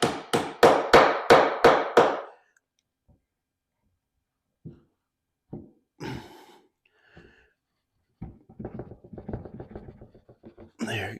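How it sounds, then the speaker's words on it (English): Seven quick, evenly spaced hammer blows drive wooden tenons into place for a dry fit, followed by scattered lighter knocks and taps and a final cluster of rapid small taps. "We'll get these tenons hit in."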